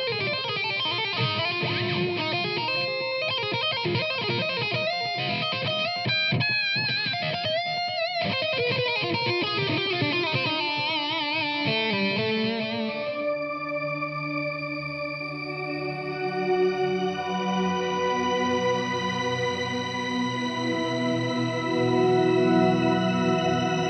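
Electric guitar played through IK Multimedia AmpliTube X-GEAR digital effects pedals, first a busy run of distorted, chorused notes and chords, then sustained ringing tones with echo and reverb, loud and alone.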